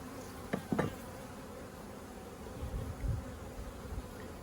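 A honey bee colony hums faintly during a hive inspection with swarm cells and a back-filled brood nest, a low steady buzz with a few brief louder passes of individual bees close by.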